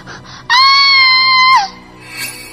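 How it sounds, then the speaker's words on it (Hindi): A girl's high, sustained scream in a Hindi horror story about a haunted school, loud and alone for about a second, rising sharply and then breaking off. "मिनी चीखकर बेहोश हो गई।"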